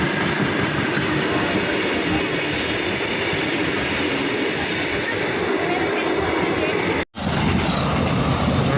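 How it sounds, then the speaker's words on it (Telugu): At a railway level crossing, a train thunders by up close in a loud, unbroken roar of wheels and wagons, broken by a momentary dropout before the rumble resumes. "ఇగో ఇది ఫస్ట్ ట్రైన్ వెళ్తుంది"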